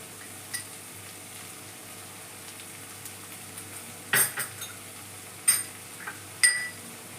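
A metal spoon scrapes and clinks against a pan while chilli powder, coriander powder and garam masala are stirred in for a prawn and drumstick curry, a few sharp clatters over a quiet, faint background.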